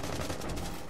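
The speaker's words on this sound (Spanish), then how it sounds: "escucho disparos a la izquierda" Rapid gunfire from a Rainbow Six Siege match crackles densely for under a second, a loud continuous burst of shots with no voices.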